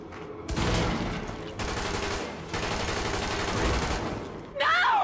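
Sustained automatic gunfire in the video game Tom Clancy's The Division, a loud dense fusillade of rapid shots running for several seconds, ending with a short electronic sweep.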